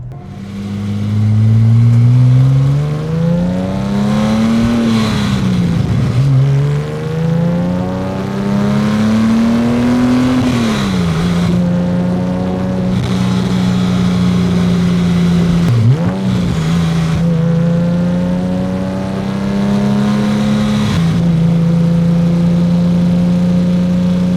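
An old Porsche 911 with turbos accelerates hard along a road, its loud, close engine note climbing and dropping through several gear changes over the full stretch, with no talk.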